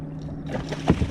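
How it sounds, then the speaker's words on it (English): A boat's motor hums nearby as it passes on the James River, with faint water splashes, brief and steady. "There's a boat coming"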